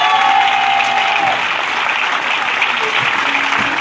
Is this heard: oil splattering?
no